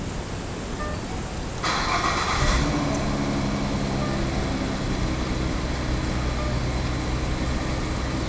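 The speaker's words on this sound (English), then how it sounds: "let us get that cold start action" A 2014 Ford Mustang V6 cranks over and catches in a cold start, settling into a steady, loud idle with a low rumble that continues to the end.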